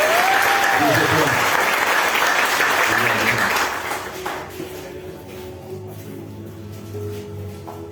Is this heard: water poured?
no